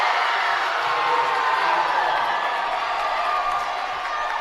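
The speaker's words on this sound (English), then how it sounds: "The crowd is going nuts." High school volleyball crowd in a gym cheering after a kill, a loud continuous roar of shouts and whoops sustained at full intensity throughout.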